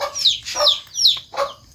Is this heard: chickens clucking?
yes